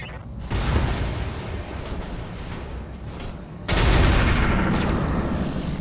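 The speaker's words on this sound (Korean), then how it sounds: "아, 총소리 좋아." Loud, dense bursts of gunfire from battling mechs in the BattleTech strategy game, with continuous heavy firing that surges even louder partway through.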